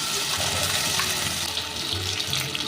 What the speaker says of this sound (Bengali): সেদ্ধের যে জলটা ছিল এটা দিয়েও আমি মিক্সিটা ধুয়ে দিয়ে দিচ্ছি